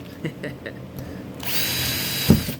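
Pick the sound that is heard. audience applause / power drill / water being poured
power drill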